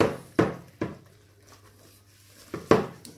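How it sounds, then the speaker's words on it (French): Spoon knocking against a pot while beans are stirred into carrot sauce: four clear, close clanks in an uneven rhythm with quiet gaps between them. "on va mettre les haricots, que les haricots dans le reste de la sauce et voilà. On va bien mélanger tout ça."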